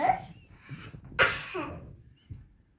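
A single sharp cough near the middle, close up, during play at being examined by a doctor, between faint voices and breathing sounds.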